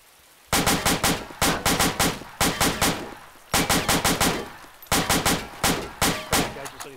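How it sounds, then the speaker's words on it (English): Loud, close automatic gunfire laying down cover fire, sharp bursts of several rapid shots each, repeated with short gaps between them. "Speedy and Mark, provide cover fire"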